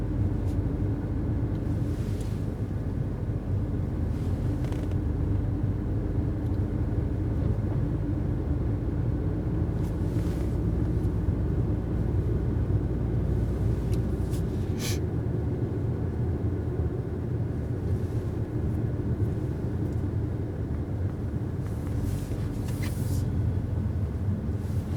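A 2019 Mercedes A-Class drives through snowstorm traffic, a steady low road and engine rumble from inside the cabin running throughout, with faint clicks and ticks on top.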